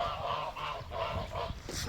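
Several geese honk repeatedly in a steady, overlapping series, loud and close, with no talking.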